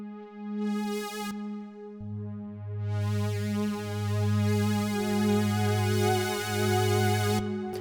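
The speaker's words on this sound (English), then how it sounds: "Every voice on the keyboard will have its own Aftertouch where you can get really, really crazy." Synthesizer keyboard notes swelling and brightening under aftertouch pressure, a sustained harmonic tone that thickens into a deep, growling bass layer partway through, played alone without speech.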